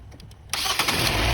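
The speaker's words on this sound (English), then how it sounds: "And it crank right up" A car engine, just fitted with a new battery, cranks briefly and then catches, jumping into a loud, steady running roar close by.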